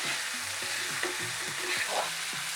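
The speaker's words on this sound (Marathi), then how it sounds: "आता टोमॅटो घालत आहे। हे सगळं आपण थोडंसं शिजवून घेऊया।" Chopped tomatoes cook in a pan for a dried bombil fish bhurji, giving a steady broadband sizzle with soft stirring scrapes and low tonal background hum throughout, no voices.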